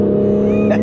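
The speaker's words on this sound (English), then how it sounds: "That engine does sound pretty good" Aston Martin V8 Vantage engine on a highway, a steady low drone with a rising tone building near the end of a brief moment.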